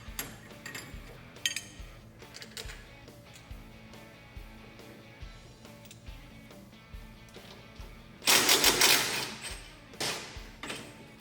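Upper and lower shock mounts being undone on a 1969 Camaro, with rapid ratchet-like ticking and metallic clinks at close range, then a short loud hissing burst partway through.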